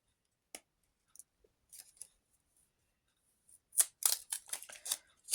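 Sharp crinkles and rustles of a paper packet being torn open, starting with a few isolated crackles and building to a dense burst near the end.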